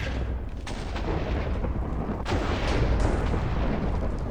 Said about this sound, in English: Lightning went right through the ceiling.